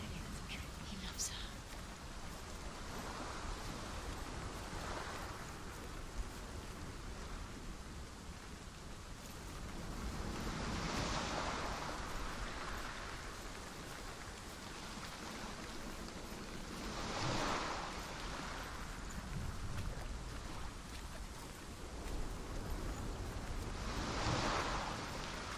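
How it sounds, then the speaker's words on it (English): Ocean waves surge and wash in the game Hellblade: Senua's Sacrifice, broad rushing swells rising and falling every few seconds against a constant soft noise bed, with faint distant whispering voices beneath. "Love the sound of the waves."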